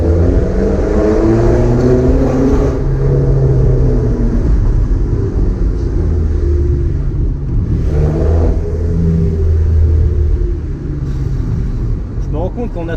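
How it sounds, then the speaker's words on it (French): Close, loud exhaust drone from a BMW E90 fitted with MTS Technik and Eibach coilovers, revving and sustaining a deep rumble, easing briefly and swelling again before settling lower near the end. "Je vais vous faire écouter un peu le moteur,"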